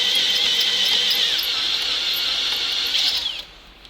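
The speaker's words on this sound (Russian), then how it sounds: "Ну, в принципе, сверло хорошо идет" A drill bit boring a hole during the restoration of an old Soviet MAZ crane, a loud, steady high-pitched whine of the cutting that drops away at the end.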